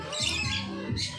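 Bird at a bird park giving two harsh squawks about half a second apart, close and fairly faint, with background noise around them.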